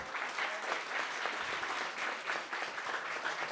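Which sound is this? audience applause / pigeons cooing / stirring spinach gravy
audience applause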